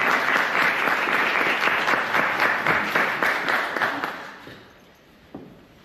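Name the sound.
audience round of applause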